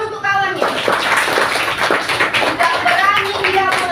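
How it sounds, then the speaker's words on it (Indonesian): Classroom children clapping for a classmate, a brief burst of scattered applause from many hands, with a teacher's voice talking before and after it. "Kasih dulu tepuk tangan untuk kawannya."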